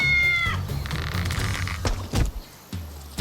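A cat lets out a loud, drawn-out meow, then several more strained, wailing cries follow in quick succession with some background rustling.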